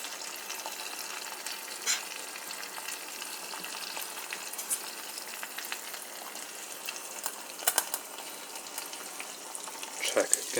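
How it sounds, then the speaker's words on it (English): An egg fries in a pan for flat egg sandwiches, giving a steady, soft crackling sizzle with scattered small pops, heard alone without talk. "We'll let this egg cook"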